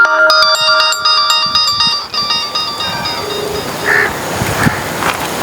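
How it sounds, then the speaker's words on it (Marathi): A loud melodic phone ringtone plays in a quick repeating tune for about two seconds, then gives way to background noise and scattered clatter. "बाया परत फोन आला"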